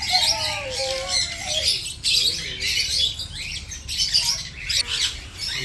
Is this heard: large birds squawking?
yes